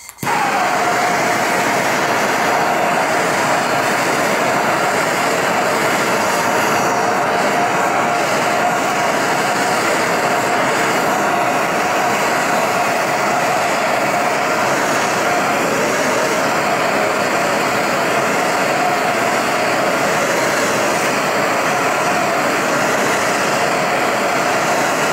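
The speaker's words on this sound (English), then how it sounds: "And I've got my propane torch, and well, I guess here goes nothing." Propane torch burning steadily on a charred wooden ball peen hammer handle outdoors in chilly weather, a continuous loud roaring hiss held close with no talking.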